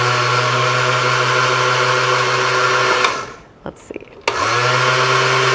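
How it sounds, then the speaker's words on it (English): A slow countertop blender whirs loudly and steadily, cuts out briefly with a few clicks and thumps, then restarts with a sharp jolt and keeps running; a voice speaks briefly during the pause. "It's a slower blender, so it really just depends on,"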